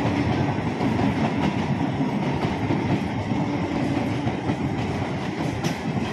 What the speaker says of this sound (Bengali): আমি ট্রেনের ভিডিও করছি, মাছের ভিডিও আর করছি না।